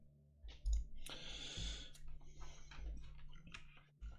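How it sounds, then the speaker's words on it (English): Clicking keys on a mechanical computer keyboard, a quick irregular run of sharp clicks and taps up close, recorded alone without talk. "I apologize for the loudness of my keyboard. It's a mechanical one, so."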